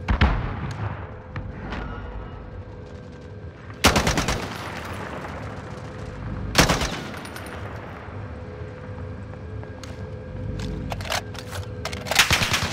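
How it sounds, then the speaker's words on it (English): Stun grenade blasts and rapid automatic gunfire in a shooter video game during a bounty-target mission, with two loud sharp bangs standing out over continuous close rattling fire and further bursts toward the end. "Stun grenade out."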